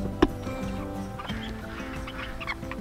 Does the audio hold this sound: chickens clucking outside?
yes